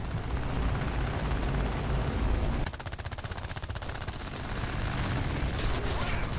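Twin Vickers machine guns firing in a combat flight video game, heard as a rapid, even stream of shots that starts abruptly over a loud droning engine and carries on for several seconds, with no speech.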